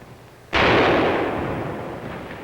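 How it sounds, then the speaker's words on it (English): One loud, sudden blast of wartime rifle fire or a rifle grenade in a 1946 war film, followed by a long rumbling decay. "We kept blasting at them with rifle fire."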